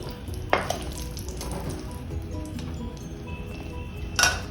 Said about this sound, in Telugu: ఉల్లిపాయ, పచ్చిమిర్చి, కరివేపాకు, మునక్కాయ వేసేసి వేపుకుందాం బాగా